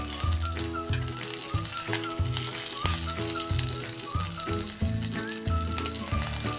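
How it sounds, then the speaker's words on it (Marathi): Ridge gourd peels frying in a pan, a steady close sizzle running throughout with light stirring scrapes over a continuous hum and loud tonal bursts. "आता शिरा आपण चांगल्याच्या भाजून घेऊया"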